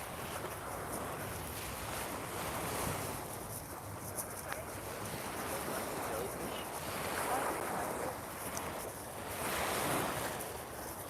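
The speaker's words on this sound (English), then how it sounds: "Sound the ocean's amazing, isn't it?" Ocean waves wash continuously onto a Moreton Bay beach, a steady broad surf hiss with gentle swells in loudness, roughened by wind buffeting the microphone.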